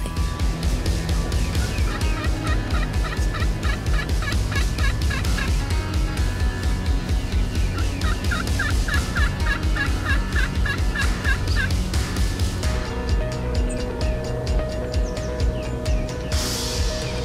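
Wild turkey toms gobble again and again outdoors, with repeated rattling calls at mid distance over a steady background of birdsong and ambient noise, and no talking.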